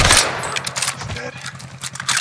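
Rapid automatic gunfire from an enemy soldier in the Call of Duty Warzone video game, a loud close burst of shots rattling through the whole moment, with a voice heard briefly.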